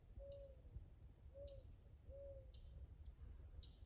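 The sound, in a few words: possible owl hooting at night in Florida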